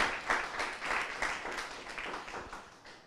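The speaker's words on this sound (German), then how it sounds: "Ja, ein Applaus auf jeden Fall." Audience applause during a football club talk event, a steady spread of many hands clapping at moderate level for about three seconds, with no voices over it.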